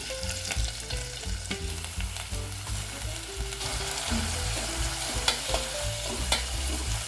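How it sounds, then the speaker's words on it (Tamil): Continuous sizzling of onions sautéing in a pan, with steady crackle and occasional scraping stirs; no talking. "வெங்காயம் ஃப்ரை ஆகிற வரைக்கும் கொஞ்சம் வதக்கிக்கணும்."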